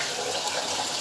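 Water from a tap splashing over hands in a home kitchen sink, a continuous close, even rush of running water with no talking.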